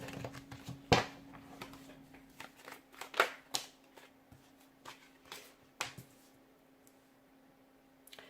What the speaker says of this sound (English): Those two cards just came flying out before I even had a chance to shuffle.